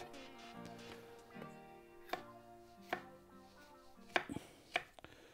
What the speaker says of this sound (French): je fais ça en petits morceaux comme ça pour que ça cuise à la même vitesse